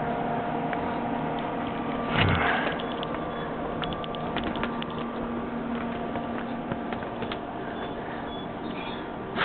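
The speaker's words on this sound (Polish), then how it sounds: "To wentylator od wyciągu spalin od pieca pracuje." A steady mechanical hum and whir of a stove's flue exhaust fan runs continuously, with faint clicks and a brief louder rumble partway through.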